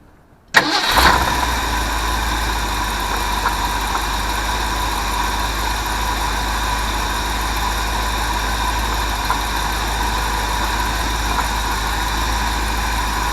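Ford 400 V8 cranking briefly and catching almost at once, then settling into a steady, loud idle with a constant rumble that holds unchanged for over ten seconds, no voices present.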